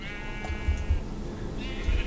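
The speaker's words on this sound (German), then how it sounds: "Das sind Schafe, Schafe." Sheep bleating in the Minecraft Tekkit game, two wavering bleats separated by a pause, with soft low thumps of movement underneath and no talk.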